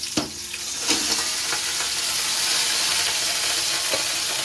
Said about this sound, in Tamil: ஒரு ஸ்பூன் ஆயில் விட்டுக்கலாம். அது கூடவே நம்ம நண்டை உள்ள சேர்த்துக்கலாம்.